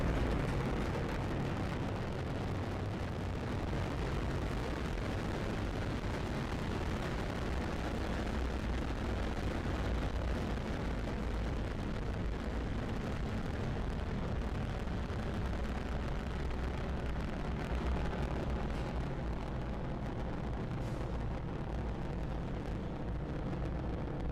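SpaceX Falcon 9 Block 5 rocket engines roar during launch, a continuous, dense, rumbling broadband thunder that stays steady and powerful throughout, with no voices over it.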